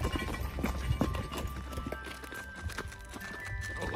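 Hooves of burros and horses clip-clop on a hard trail at Boquillas Crossing, Big Bend, a rapid uneven patter of several animals walking nearby, with faint background noise.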